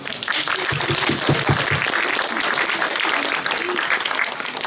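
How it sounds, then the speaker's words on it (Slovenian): An outdoor crowd gathered for a short ceremony before a cave, at the end of a hike from Grosuplje, breaks into sustained applause, with a few voices briefly audible through the clapping. "Tako da najprej mogoče aplavz za njega."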